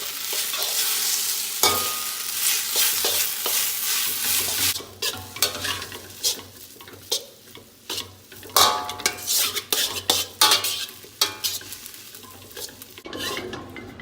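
Tofu, vegetables and sprouts stir-fried in a pan, a continuous sizzle broken by frequent scraping and clattering of a utensil against the pan, loud and close, growing more rhythmic toward the end.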